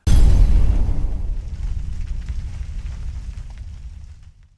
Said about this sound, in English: Cue explosion!